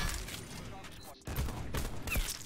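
A burst of rapid gunfire in the video game Black Ops 4, loud and dense, with a short gap mid-burst, mixed with game effects and a voice talking over it.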